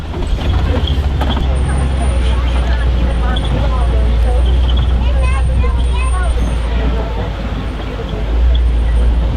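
Safari truck rumbling through the savannah at Disney's Animal Kingdom, a steady loud engine drone with bumps and rattles, close and continuous under a guide's voice and passengers talking.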